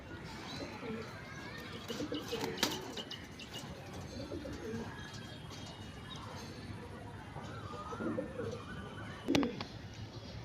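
A male Punjabi pigeon coos softly and repeatedly, the low murmuring calls sitting under faint background noise, with a brief sharp knock near the end.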